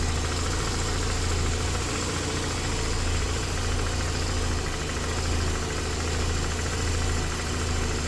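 A Mazda RX-8 rotary engine idles steadily up close with an idle fault, a buzzy, slightly uneven rumble that drones on without pause.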